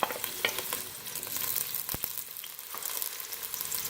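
Finely chopped medium onion fries in hot oil, giving a steady close sizzle and crackle with occasional stirring clicks and no voices.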